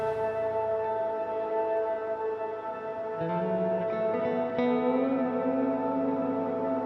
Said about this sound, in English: The Space Echo, man. The thing that's adding